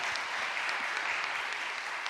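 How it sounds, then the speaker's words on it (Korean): Church congregation applauding, a dense, steady patter of many hands clapping together in a large room with no voices over it. "우리 격려의 박수 한번 해주시기 바랍니다"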